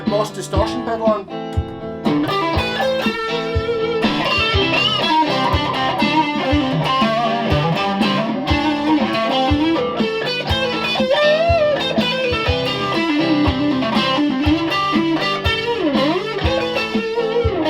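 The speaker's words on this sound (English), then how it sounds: "I'm going to put the Boss distortion pedal on." A Stratocaster electric guitar through a Boss distortion pedal plays a continuous riff with sustained, gritty tones and picked notes, heavily distorted, loud and upfront.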